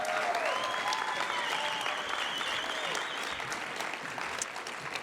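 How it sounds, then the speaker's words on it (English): A crowd applauds award recipients at the City of Destiny Awards ceremony, a sustained, fairly distant wash of clapping that runs without break and eases slightly toward the end. "I'd like you all to join me in giving a round of applause to congratulate our first 5 recipients of our 2023 City of Destiny Awards."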